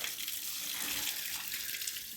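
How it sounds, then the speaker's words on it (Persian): Water runs steadily from a tap, a continuous close hiss and splash with no break and no talking. "خب اینم آبش اومد، آبش رو بگیریم"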